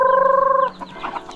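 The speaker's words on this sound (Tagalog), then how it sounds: "So ito, pakainin muna natin yung mga manok natin dito." Chickens at feeding time, a close, sustained tonal call that gives way to a scatter of short clucks and pecking sounds with no talk.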